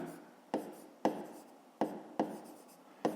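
Pen strokes on paper during a fifth-grade math exercise come up close in a series of about six short scratchy bursts, spaced irregularly in a quiet room.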